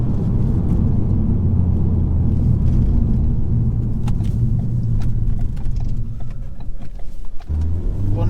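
A 2016 Ford Focus ST-3 diesel driving under load, a deep continuous engine rumble and road noise heard from inside the cabin, steady throughout with a brief dip near the end as if shifting gear.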